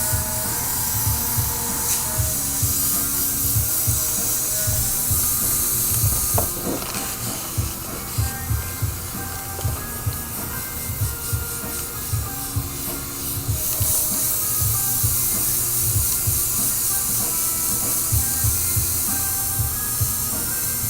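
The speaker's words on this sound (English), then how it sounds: "And I'm just going to overspray the white." An airbrush spraying white paint onto an RC car body, a steady close hiss that runs throughout with short air bursts and faint clicks, no voices.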